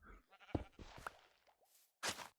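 Sheep in the Minecraft video game bleat several times in quick succession, fairly faint and close, with short wavering calls and a final louder bleat.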